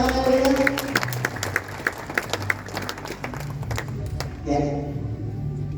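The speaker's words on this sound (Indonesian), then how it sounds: "tepuk tangan yang meriah." An audience at a plaque presentation ceremony for Pewarna Indonesia claps, with crisp scattered hand claps mixed under a sustained tonal voice or music, then a fuller swell of sound near the end.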